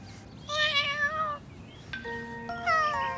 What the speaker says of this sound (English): Like a cat's meow.